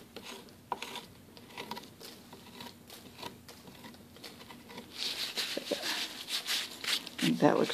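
Rasping and scraping as the sharp edge of a small hypertufa pot is roughened and gouged with a tool, a steady gritty patter growing louder and denser toward the end, close by.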